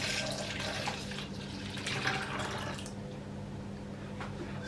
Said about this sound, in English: As soon as it's near boiling point, you pour the milk over the custard mix.